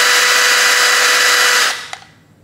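A DOLIZ BD636 12V brushless cordless compact drill runs at steady high speed with a loud, even motor whine, then spins down and stops, leaving a small click and quiet.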